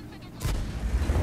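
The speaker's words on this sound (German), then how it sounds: "Artillerie schießt daneben" Artillery fire in the tank game World of Tanks: a single heavy boom strikes partway through, followed by a rumbling low-end tail, with faint battle noise before it.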